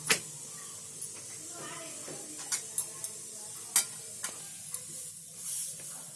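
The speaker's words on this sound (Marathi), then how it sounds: "आता मी त्याच्यावर चपाती टाकते." Quiet, steady sizzle of a chapati cooking on a hot griddle, punctuated by scattered sharp ticks and clicks.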